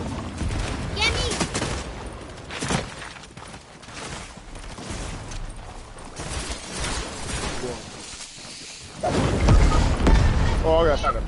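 Fortnite gunfire crackles in rapid, overlapping bursts at close range, with a heavy volley near the end, as players shout over the shooting.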